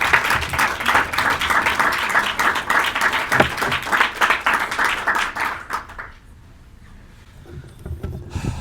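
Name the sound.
audience applause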